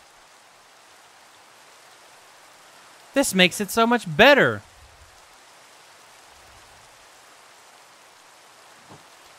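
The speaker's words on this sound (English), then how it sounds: "Rain!" Rain falling in Minecraft with the All the Mods 7 modpack, a steady soft hiss of rainfall throughout, with someone briefly talking over it partway through.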